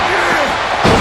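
A wrestler slammed hard onto the ring mat during a televised Elimination Chamber world title match, one loud heavy impact amid constant arena crowd roar, with a second thud near the end.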